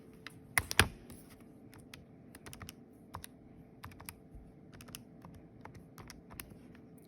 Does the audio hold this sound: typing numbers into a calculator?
yes